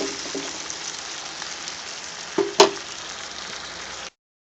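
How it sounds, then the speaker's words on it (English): Fish simmering in thin coconut milk in a pan for fish molee gives a steady, close, hissing bubble, with a couple of brief knocks near the end and no talking. "let it boil for 3 to 4 minutes till the fish is done"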